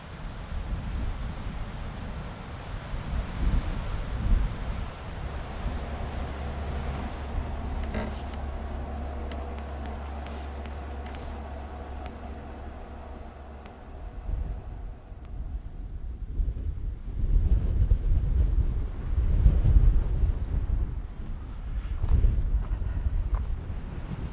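Wind buffets the microphone at a desert campsite in southern Nevada, a steady low rumble with gusty surges throughout and a faint low hum in the middle stretch.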